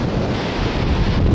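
Gentle ocean waves wash onto a nearby beach in a loud, continuous rush, heavily mixed with wind buffeting the microphone, with no voices.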